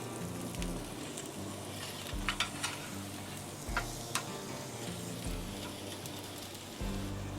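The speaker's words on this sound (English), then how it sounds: "So I'm going to go ahead and flip these now." Spare ribs sizzle softly on a charcoal grill while they are flipped, with a few light clicks and taps of tongs over a low steady hum and no talking.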